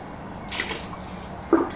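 Car wash solution mixed with Optimum No Rinse is stirred in a bucket, giving a quiet watery swish followed by a brief, sharper splash near the end, with no talk.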